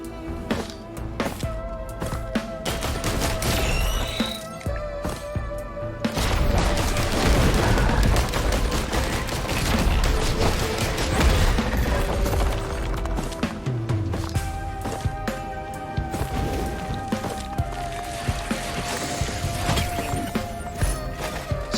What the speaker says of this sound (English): Sticky bombs, they're amazing.